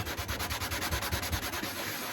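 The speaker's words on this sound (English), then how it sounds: "you just want to sand it lightly" Rhythmic back-and-forth scraping of a fine sanding block rubbing lightly over a painted vintage pachinko machine part, steady and close, with no voices.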